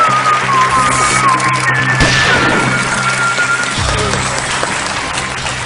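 The studio audience of the game show Kaun Banega Crorepati applauds a contestant with a loud, continuous burst of clapping, while sustained music tones play underneath.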